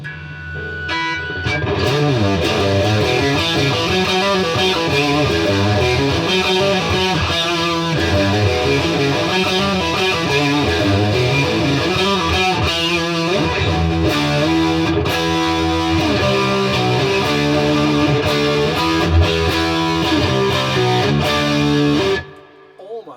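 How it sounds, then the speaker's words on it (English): An electric guitar played through a Boss BD-2 overdrive pedal with level and gain turned up, thick and saturated, with chords and riffs running continuously before cutting off abruptly at the end. "There's a lot of distortion there and a lot of gain on that."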